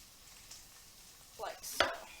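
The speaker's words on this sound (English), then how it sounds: "Chopping up the mushrooms" A kitchen knife chops mushrooms on a board, two or three quick, fairly close cuts near the end after a quiet pause.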